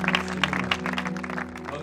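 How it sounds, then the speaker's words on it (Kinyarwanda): A church congregation claps along steadily at a worship gathering, fairly soft and somewhat distant, over a low sustained musical hum. "Komera Imana amashyi twese."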